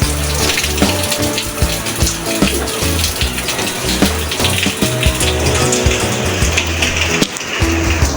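Strong gushing flow of water during a typhoon, loud and constant, with a rushing churn that never lets up.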